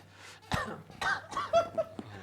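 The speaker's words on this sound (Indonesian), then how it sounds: "Gue batuk dulu ya." A man coughs a few times close to the microphone during a football discussion, rough bursts with quiet breaths between, alone without talk.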